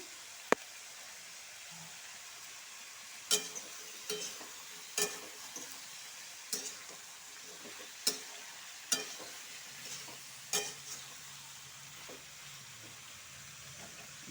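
Mixed vegetable curry with salt and turmeric frying in a pan, a soft continuous sizzle broken by repeated spatula scrapes and clinks every second or so, fairly quiet and close.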